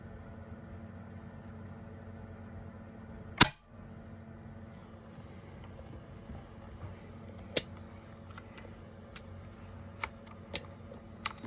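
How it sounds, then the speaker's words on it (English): A Hatsan Flashpup QE .22 PCP air rifle fires a single sharp, close snap into a 2x6 wooden board, followed by faint clicks and handling noises in a quiet room. "So let's do a little penetration shot."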